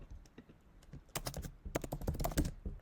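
Rapid bursts of keystrokes on a computer keyboard as a title is typed, quiet and close, with irregular clusters of clicks and brief pauses between them.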